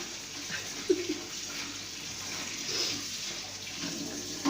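Running tap water splashes steadily as a six-year-old girl washes dishes at a sink, a soft continuous flow with a few clinks of crockery, fairly quiet and without talk.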